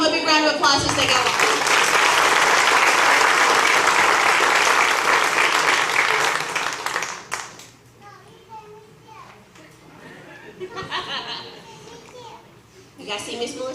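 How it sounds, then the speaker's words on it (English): A crowd at an electric cooperative event gives a loud round of applause mixed with children's voices for about seven seconds, then drops to a hushed room with scattered chatter before noise rises again at the end. "Let's give him a big round of applause as they go."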